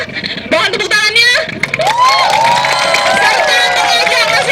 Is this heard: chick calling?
no